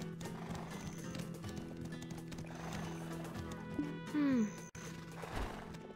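A horse in the Black Desert Online video game gives a loud, close neigh near the end over a steady game soundscape with clip-clop hoofbeats, and people talk faintly underneath.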